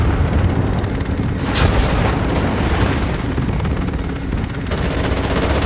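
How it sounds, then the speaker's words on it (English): Sustained, heavy gunfire from a chopper gunner helicopter in a first-person shooter video game, a dense continuous roar of rapid shots and booming impacts that stays loud throughout with no talk. "Deploying chopper gunner."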